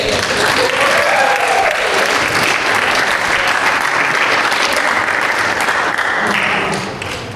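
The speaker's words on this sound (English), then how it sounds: "can everybody please give a warm applause to Crystal Lay." Loud, sustained applause from a crowd fills the whole stretch, steady throughout and tapering slightly at the end.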